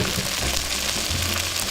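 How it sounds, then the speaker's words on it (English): Onions frying in a pot for beef stew, a steady soft sizzle and crackle close by with a low bubbling rumble, no voices. "onions cooking pretty good"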